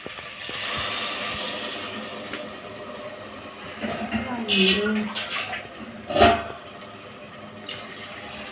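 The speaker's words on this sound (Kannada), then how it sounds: "ಈಗ ಇದಕ್ಕೆ ನೀರು ಹಾಕೊಂಡ್ಬಿಡೋಣ" Water pours into a metal pot in a few bursts, splashing and gurgling, followed by a clatter of cookware.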